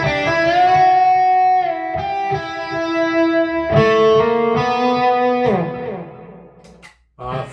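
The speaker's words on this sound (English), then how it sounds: "Throw on a little bit of overdrive." Electric guitar played through a Peavey Vypyr X2 amp with light overdrive, sustained chords and single notes ringing with mild grit, loud and close, ending in a brief pause and a final strum.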